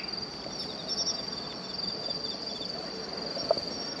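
Bell crickets (suzumushi) by a roadside at night, a thin steady high-pitched ringing chirp repeating continuously and fairly faint, with a single soft tap partway through.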